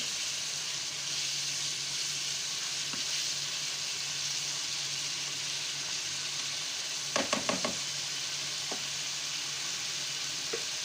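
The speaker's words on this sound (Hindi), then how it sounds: "1 से 2 मिनट के लिए भूनेंगे" Chicken and turnip fry in a home kitchen pan, a steady soft sizzle running throughout, with a brief cluster of clatters from stirring midway and a couple of faint taps.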